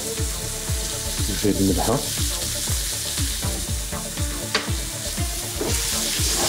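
Chopped tomato and spices fry in a pan with a loud close sizzle while a spoon scrapes and knocks against the pan again and again, and a voice speaks briefly over it.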